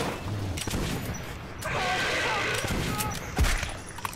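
Shotgun blasts in the first-person shooter Metro 2033 boom out amid loud in-game combat noise, with sharp impacts around the middle and a heavy blast near the end.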